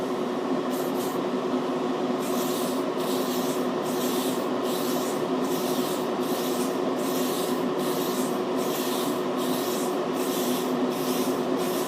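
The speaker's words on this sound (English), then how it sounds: "I'm just going to use a rattle can for the gloss black." Rattle can spraying gloss black paint inside a running paint booth, a steady loud fan roar with repeated short hissing bursts of spray in a regular rhythm.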